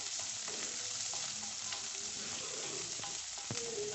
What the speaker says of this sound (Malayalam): വെളിച്ചെണ്ണ ചൂടായി വരുമ്പോൾ അതിനകത്തേക്ക് ഉള്ളി അരിഞ്ഞത് ചേർത്ത് ഒന്ന് വഴറ്റിയെടുക്കാം.